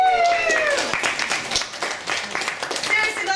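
An audience at an improv UX talk in Sydney claps and cheers for volunteer Jay, with whoops and voices over the applause.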